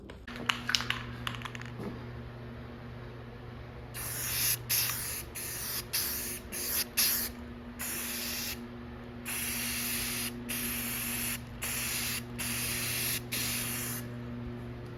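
Spray paint hisses onto a welded steel track sled in repeated bursts of several seconds each, separated by short pauses, loud and close over a faint background hum.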